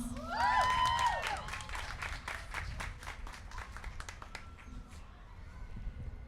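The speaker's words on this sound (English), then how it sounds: "a big round of applause for Señora Mansos de Cavazos" Audience applause welcoming the host at a community event, crowd clapping that starts strong and gradually thins out, mixed with a short musical flourish at the start.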